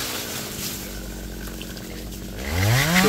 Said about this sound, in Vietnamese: Chúng mình sử dụng cái máy cưa đó